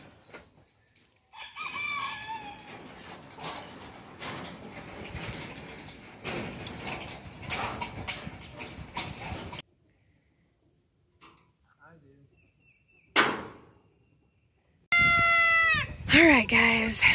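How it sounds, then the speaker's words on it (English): Chickens, silkie chickens and ducks in a newly built coop cluck and squawk, and a rooster crows loudly near the end. A person talks over the first half of the birds, and there is a quiet pause in the middle. "we got our original chickens, our silky chickens, and all of our ducks all in the new coop"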